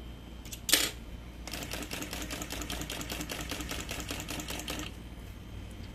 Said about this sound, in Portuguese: E aí você vem costurando bem aqui nessa junção aqui